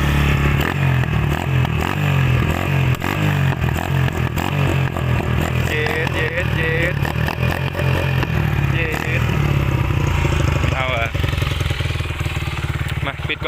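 A Honda Wave 110i motorcycle with a 53 mm bore and a can exhaust runs loud and close, its engine droning steadily with rattly clatter throughout, while voices talk over it.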